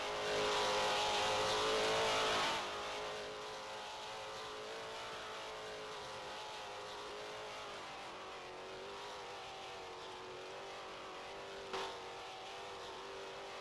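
Ford Mustang Foxbody race car climbing the hill at Laguna Seca during a feature race, engine roaring loudly at first, then settling into a steady, sustained drone as it pulls away uphill.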